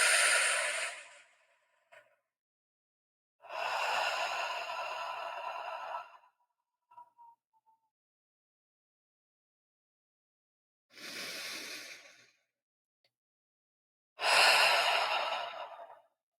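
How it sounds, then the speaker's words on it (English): Slow, deep breaths out during a guided prayer-style breathing exercise, with several long, airy exhalations separated by quiet pauses and one short, breathy catch in between. "and we're going to breathe out."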